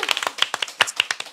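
A quick burst of about fifteen rapid, sharp hand claps from a few people on a Korean talk show, close and lively, with no speech over them.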